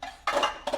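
A metal frying pan clatters twice as it is set down on the stove to heat, with bright metallic knocks close by.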